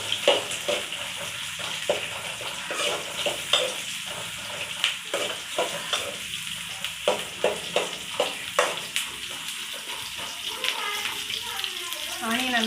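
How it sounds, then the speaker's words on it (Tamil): Onions fry in a pan for Erode-style chicken gravy, a steady close sizzle broken by regular scraping stirs of a spoon against the pan. "ஆனியன் நல்லா வேகுது."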